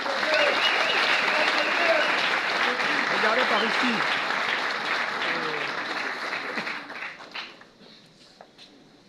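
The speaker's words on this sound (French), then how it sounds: "Je vous prie de l'applaudir." An audience at a political assembly gives dense, loud applause that holds steady, then thins out and fades to scattered claps toward the end, while a voice speaks briefly amid the crowd noise.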